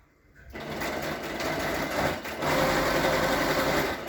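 A sewing machine stitches a seam on a fabric mask, starting after a brief pause and running as a steady close buzzing whir with a small dip midway.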